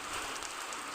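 Steady rain falls from dark storm clouds onto village streets, a dense, even hiss with soft scattered drop ticks, constant and fairly quiet throughout, with no voices.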